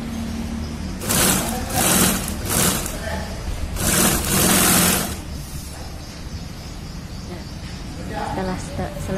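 A sewing machine stitches the partitions of a bag's inner organizer, running in two loud bursts of whirring stitching separated by pauses, with a voice talking throughout.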